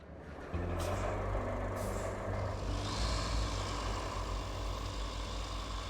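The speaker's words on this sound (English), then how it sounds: "Crane truck!" A crane truck in the Roadcraft video game rumbles loudly with a heavy, steady engine drone, joined by hissing air-brake bursts. Faint reversing beeps may sit under the engine noise.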